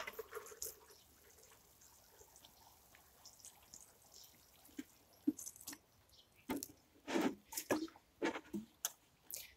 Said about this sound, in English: now I'm going to give them a really good shower with water to water them in